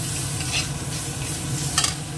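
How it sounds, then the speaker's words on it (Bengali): Spice paste and tomato are sautéed in a pan, giving a close, steady sizzle with brief stirring scrapes and a sharper crackle near the end. "মশলাটা কষানো হয়ে গেছে, দিয়ে দিলাম টমেটোটা।"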